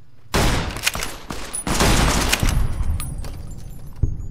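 Dense gunfire in Fallout New Vegas, a loud fusillade of overlapping shots and booms that starts abruptly and keeps up for several seconds, with sharp cracks over a steady rumble.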